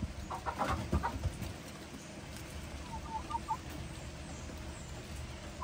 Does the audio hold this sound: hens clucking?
yes